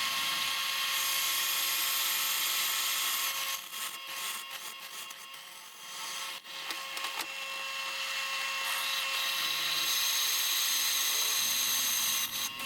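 A power drill bores slowly through a steel knife blank, giving a steady high-pitched whine with brief dips and wavering as the bit bites into the metal.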